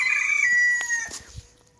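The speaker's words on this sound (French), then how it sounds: "Regarde, elles sont là tes poules." Chickens in a backyard coop make a brief burst of calls, one drawn-out crow-like cry followed by a few short clucks, close and fairly clear, fading out.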